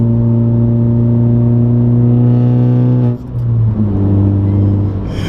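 A Stage 3 Ford Focus ST engine drones loudly with a heavy, rumbling exhaust note from a faulty exhaust, holding steady, then dipping briefly before picking back up.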